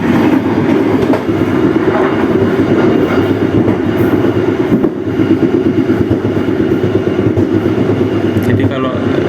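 Bengawan passenger train running on rails near Cakung at under 70 km/h, a steady loud rumble with rhythmic clickety-clack of wheels over rail joints throughout, heard from inside the carriage.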